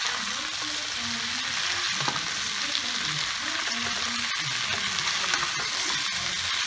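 Leeks fry and are stirred in a pot for beef stew, giving a constant even sizzle with soft stirring scrapes over a faint low background hum.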